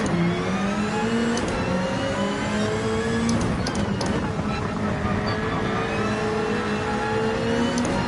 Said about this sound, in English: As you can hear, the M3 has a V8 swap in it